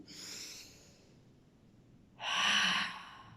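Two long, soft exhalations during a pregnancy yoga session, the second louder and breathier, separated by a quiet pause with no speech.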